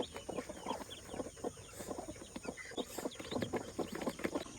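Native free-range chickens cluck softly nearby while chicks peep in quick, high bursts, a busy, faint chorus of poultry sounds with no talking.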